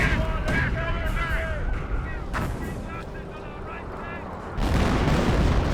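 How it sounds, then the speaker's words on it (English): Officer-called artillery barrage in Company of Heroes: a series of heavy shell impacts and booms spread across several seconds, with a final loud burst at the end, amid battle noise and voices. "Officer artillery being brought on in."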